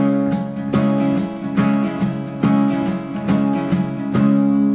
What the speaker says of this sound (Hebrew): אני בכוונה עכשיו מלווה על כל ששת המיתרים.